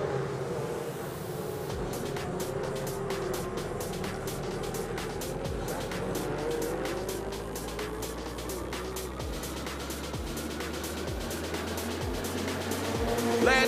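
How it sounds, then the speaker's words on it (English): Ferrari Challenge Coppa Shell race cars at the Valencia circuit launch for a race start, a dense roar of many engines revving hard together with sharp gear changes, loud and continuous, with crowd or track ambience underneath. "We're standing by for the start of Coppa Shell race number two."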